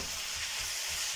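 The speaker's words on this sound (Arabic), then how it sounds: "بعد ما تشحرات ليا البصله غادي ندير الدجاج." Chicken pieces frying in a pan with browned onions give a steady, close sizzle of bubbling and spitting oil, with no one talking.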